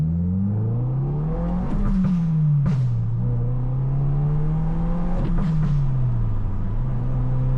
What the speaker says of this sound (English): shift, and then quickly release the clutch and get back on it. You'll hear there's 2 pops.